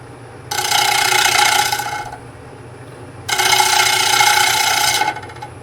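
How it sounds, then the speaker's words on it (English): A half-inch bowl gouge cuts across the face of green box elder wood spinning on a lathe, two loud sustained bursts of scraping, hissing shavings, each about two seconds, separated by a quieter pause with a steady low motor hum underneath. "we're going to take the 1/2-inch bowl gouge, and we're just going to come across the front of this and just level that off"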